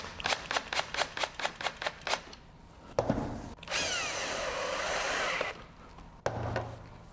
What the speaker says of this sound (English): And now you can start reinstalling your screws.